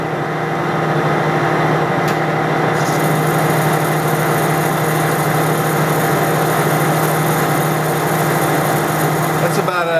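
Lathe turning down a metal part, a steady motor hum with a high whine of the cut running continuously for about ten seconds, with brief clicks near the start and end.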